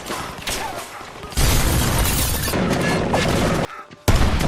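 Dense, loud gunfire and explosions fill a film battle scene against villains, with heavy sustained bursts and booms close up. A sudden brief drop near the end is followed by another blast.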